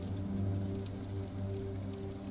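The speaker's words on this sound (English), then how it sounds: "The patter of the rain has a hypnotic rhythm that calms you" Rain patters steadily in a soft, continuous wash with a low hum beneath it. The sound is moderately faint and even, with no voices.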